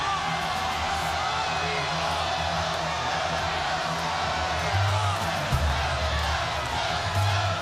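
Wrestling arena crowd at a live televised wrestling event, a steady, moderately loud murmur of many voices with scattered cheers rising near the end.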